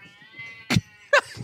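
A house cat meows twice at close range, two short bright calls about half a second apart, over a quiet room background with no talking.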